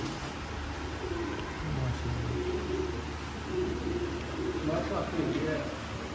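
Soft, low coos from kept pigeons in Sialkot, Pakistan, repeat in short bursts over a quiet background murmur, fairly faint and somewhat distant.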